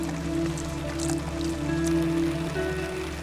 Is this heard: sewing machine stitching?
no